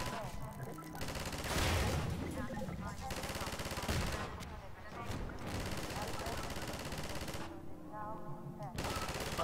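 Sustained rapid bursts from a mounted turret in a VR shooter game, loud and close, continuous and rattling across the whole stretch with short gaps, and someone talking over the gunfire.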